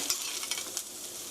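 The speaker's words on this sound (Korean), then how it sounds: "양파는 5분 정도 볶았습니다." Onions stir-frying in a pan for japchae give a soft, continuous sizzle with light scraping stir strokes, fairly faint and close, with no voices.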